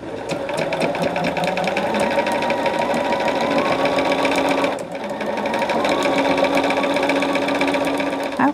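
A sewing machine stitches binding onto a small quilt project, running in a loud, steady whirring drone with a brief pause near the middle before resuming at the same pace.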